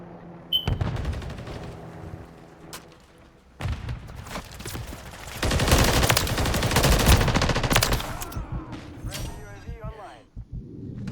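Gunfire from the Call of Duty Modern Warfare 3 video game, including a BAL-27 assault rifle, rattles in loud rapid bursts and sustained volleys, with speech mixed in among the shots.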